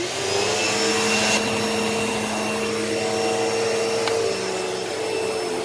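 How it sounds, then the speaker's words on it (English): A Fantom vacuum cleaner runs steadily and loudly up close, sucking up scent beads, its motor holding a constant whine throughout with a brief change in pitch partway through. "we're going to vacuum up some of these scent beads"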